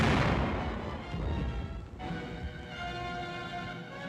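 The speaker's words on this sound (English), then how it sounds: "By direct fire, trained armored force gunners clear obstacles for their infantry teammates." Heavy direct fire from armored force gunners in wartime combat footage: a deep booming blast that rumbles and decays, followed by a continuous low battlefield roar.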